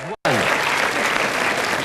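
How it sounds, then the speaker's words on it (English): A television game show studio audience on Wheel of Fortune cheers and claps in a loud, dense burst that runs almost continuously after a brief cut, with a voice heard over it. "They'll cheer for anything in the audience"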